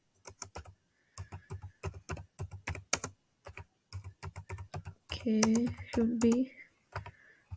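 Crisp computer keyboard typing in rapid bursts of clicks with brief gaps, close and clear, while someone speaks briefly over the end.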